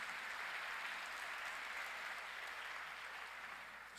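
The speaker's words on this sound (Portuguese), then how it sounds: "dê um aplauso ao Senhor Jesus." A church congregation applauds at an evening service, a dense steady wash of many hands clapping continuously, distant and fairly faint, tapering slightly toward the end.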